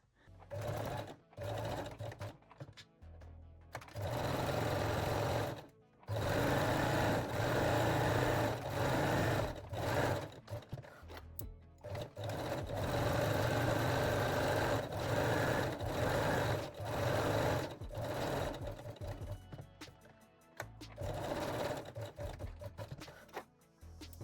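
A sewing machine runs long straight stitches on a lingerie bralette, its steady motor whir going in several close, loud bursts with brief pauses between runs.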